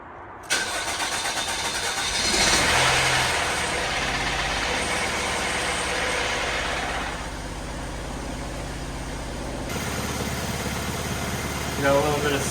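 A broken SUV's engine cranks briefly after priming, then catches and roars to life before settling into a steady, rumbling idle.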